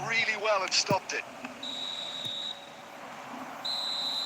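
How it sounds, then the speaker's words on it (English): A referee's whistle blowing for half-time in the eFootball mobile football video game: steady, clear whistle tones heard twice at moderate level over crowd ambience, following brief talk at the start. "Referee's had a look, and he's blown his whistle for half-time."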